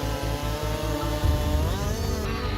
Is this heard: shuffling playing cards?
no